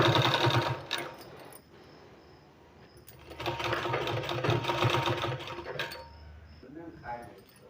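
A sewing machine stitching a sleeve, with fast whirring runs of stitching separated by pauses, loud and close, and a voice talking alongside.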